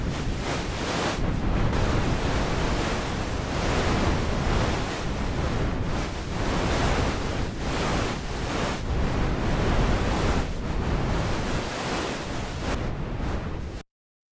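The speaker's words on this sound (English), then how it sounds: "Let's hear what it sounds like just with the noise generators." Continuous broadband hiss of white and colored noise from modular synth noise generators, swelling and ebbing slightly like surf, then cutting off abruptly at the end.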